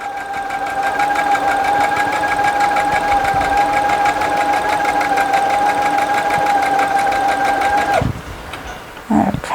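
A sewing machine stitches a quilt seam in a fast, steady, close whirring run for about eight seconds, then stops abruptly, leaving a few soft handling clicks.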